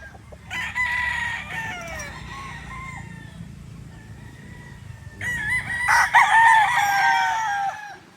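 A Boston Millionaire gamefowl rooster crows nearby, loud and clear, in two long drawn-out calls. A short cluck comes between them and a lower hum of background sound runs underneath.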